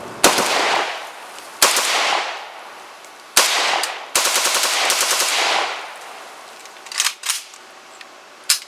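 Gunfire from an Arsenal SLR-104FR AK-74 rifle, loud sharp shots with long ringing decay, including single shots and a rapid string of fire, then faint softer shots near the end.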